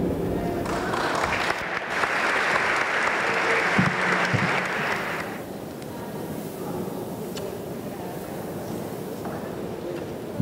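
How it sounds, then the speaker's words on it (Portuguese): Enthusiastic applause fills a company awards ceremony in Brazil, loud and sustained for about five seconds before fading into a quieter murmur of the hall. "Mais uma salva de palmas"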